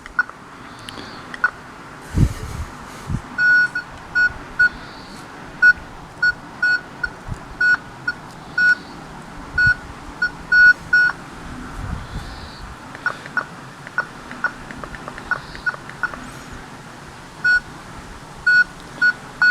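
A homemade Kvazar ARM metal detector emits repeated short electronic beeps in an irregular series as it sweeps over metal, with clicks and handling noise from outdoor ground beneath.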